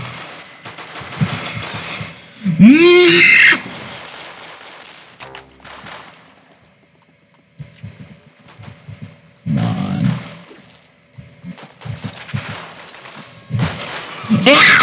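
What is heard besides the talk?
big guns firing in Arsenal video game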